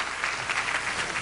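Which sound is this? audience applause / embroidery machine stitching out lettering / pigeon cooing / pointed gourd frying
audience applause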